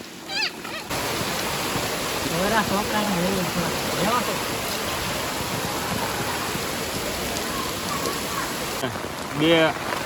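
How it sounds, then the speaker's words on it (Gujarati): Floodwater from heavy rain rushes loudly and continuously through a street, a dense roaring wash like a fast flood current, with voices talking faintly over it near the start and end. "જુઓ એટલું પાણી છે અત્યારે. દબાણ જ એટલું છે પાણીનું."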